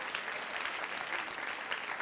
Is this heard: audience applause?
yes